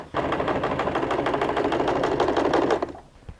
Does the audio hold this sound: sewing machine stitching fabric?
yes